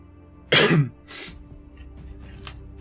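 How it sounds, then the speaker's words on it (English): One loud, harsh cough bursts out close to the microphone, followed by a softer cough and some faint throat noises. "I had a cough because I was sick and it's coming back"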